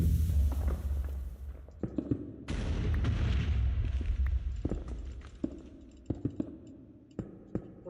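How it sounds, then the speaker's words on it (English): Blocks of TNT detonate in a Minecraft-style block game, with low rumbling booms and a dense blast at the start, then scattered sharp cracks and clicks trailing off in the background, no voices. "Just hear the TNT detonate in the background."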